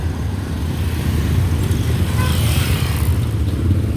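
Rush-hour road traffic fills the scene with a loud, steady drone of car and motorbike engines, and a brief brighter hiss of a nearby vehicle rising in the middle.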